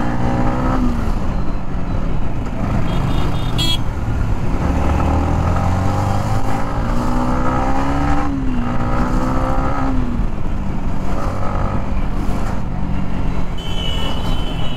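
Motorcycle filtering through road traffic, with a steady engine drone under dense surrounding vehicle noise and wind, shifting pitch as it rides, with a horn-like tone near the end.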